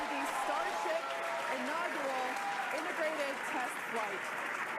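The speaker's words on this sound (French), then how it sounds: "J'aime bien tout le monde applaudit." A crowd applauds after a SpaceX Starship flight test ends in an explosion. The steady clapping sits moderately loud in the background while someone talks over it throughout.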